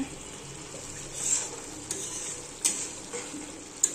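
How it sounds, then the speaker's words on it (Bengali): Spice masala fries in a pan as a soft, low sizzle, with a few scattered clicks and light stirring knocks nearby, no talking. "এদিকে ভাত ফুটছে আর এই যে মশলা কষানো চলছে।"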